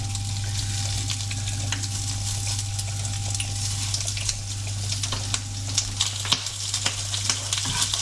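Salt and pepper squid sizzles loudly in a pan on maximum heat, a dense steady crackle with occasional clatters and scrapes as the pieces are tossed about.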